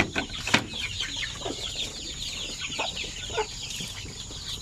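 Chickens clucking on a Filipino farm during the rainy season, a busy flock of overlapping clucks and calls close by against steady background noise.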